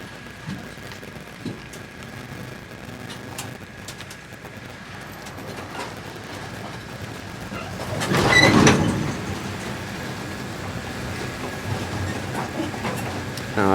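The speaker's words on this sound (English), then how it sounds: "The tram is going to begin moving next." A beach tram at Lovers Key State Park rumbles and clanks as it starts moving, with a brief loud mechanical burst midway over a steady background hum.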